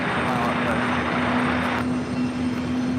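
Airbus A330-300 airliner on arrival at JFK airport, a steady loud roar of engines with a sustained low hum throughout, close overhead, with faint radio chatter underneath.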